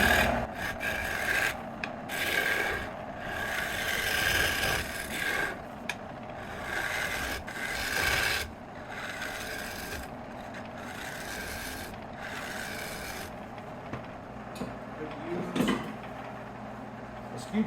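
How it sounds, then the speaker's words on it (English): Scraper cutting an English walnut live edge bowl spinning on a wood lathe, repeated rough rasping bursts of tool on wood with short pauses, someone speaking briefly over it. "We'll come in with scraper to start."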